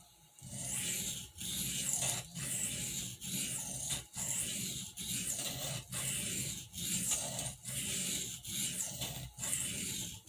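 A Barlow knife is drawn steadily across oil stones in about eleven even, close rasping strokes, each separated by a brief pause, with no talk.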